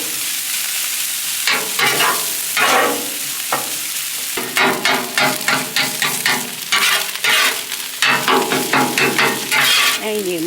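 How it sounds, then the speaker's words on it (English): Egg and fried rice with soy sauce and sesame oil on a hot Blackstone griddle, a loud constant sizzle broken by many rapid rhythmic metal spatula scrapes and taps, no talk. "And you mix the egg into the rice."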